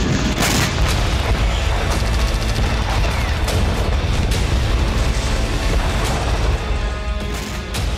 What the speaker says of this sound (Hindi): ईरान की बैलिस्टिक मिसाइल साइट पर एक के बाद एक 5 धमाके हुए